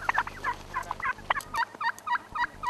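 Turkeys gobbling in rapid bursts, about a dozen quick, close, loud calls in a row with no voices.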